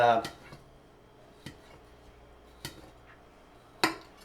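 A knife cuts through raw yams on a board, a few sharp separate knocks and clicks spaced about a second apart, faint in a quiet kitchen after a brief voice at the start.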